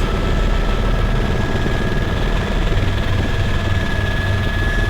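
A steady, loud propeller aircraft engine drones without a break from a Flight Simulator X mod, flown over Los Angeles in VR. The tone holds constant at one pitch throughout.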